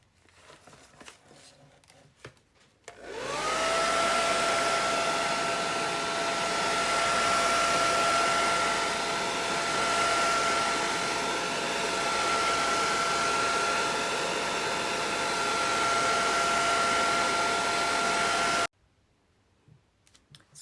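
A hair dryer blows steadily on a thin coat of watercolor paint for about sixteen seconds, a loud continuous whoosh with a faint whine that starts and stops abruptly.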